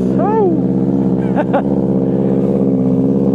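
Honda CB motorcycle engine running and revving loudly at close range, a steady low rumble with brief throttle blips, while a voice talks over it.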